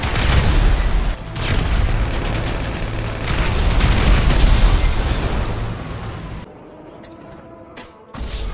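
Sticky bombs detonate on cargo in GTA Online, a dense barrage of heavy blasts and gunfire-like bursts rolling on for several seconds. It drops off sharply into near quiet, then one more hit sounds at the end.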